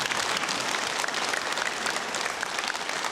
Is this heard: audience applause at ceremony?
yes